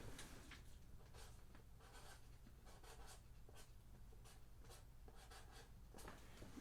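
Handwriting of vocabulary words, with pen or marker strokes scratching in short bursts against a steady low room hum, no talking.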